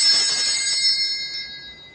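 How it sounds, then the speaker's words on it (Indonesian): A small church altar bell used during Mass shakes in a quick cluster of bright, high jingling rings, then fades with a final tap, loud and close with no talking. "Selanjutnya, ini adalah bel."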